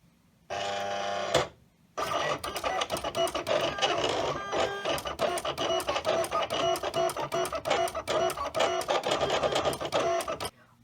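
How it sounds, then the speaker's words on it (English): Silhouette Cameo cutting machine cutting a Dollar Tree plastic cutting mat, a near, loud run of rapid clicking and whirring motor pulses after a short burst and a brief pause. "And then we'll put it through the machine."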